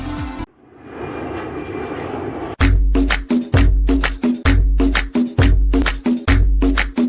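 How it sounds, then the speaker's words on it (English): An animated airplane in a cartoon revs up, then settles into a loud sustained drone that gives way to rhythmic, repeated bursts, like flapping wings. "I think the plane is about to take off."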